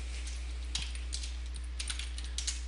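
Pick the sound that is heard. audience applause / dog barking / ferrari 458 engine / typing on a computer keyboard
typing on a computer keyboard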